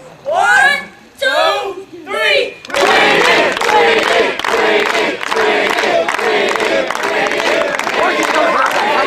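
A summer camp troop bursts into loud group noise after three short spoken bursts, the crowd roaring and clapping together in a sustained, dense wall of sound.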